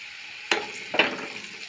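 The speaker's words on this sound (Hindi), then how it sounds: "अब इसमें सब्जियों को हल्का फ्राई कर लेते हैं।" Mushrooms hit hot oil in a pan for a light fry, giving two quick sizzling bursts in close succession, each a bright crackle that fades into a soft, lingering hiss.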